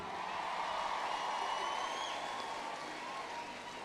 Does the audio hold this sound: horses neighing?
no